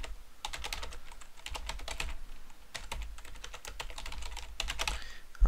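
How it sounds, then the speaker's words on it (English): Rapid, irregular keystrokes on a computer keyboard sound close and steady. Short pauses break up the bursts while someone types an email during a review of Comodo Internet Security 8. "If I can type today."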